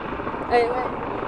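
A helicopter drones overhead in a brief, steady rotor hum, moderately loud and close, with a faint rising whine in the middle.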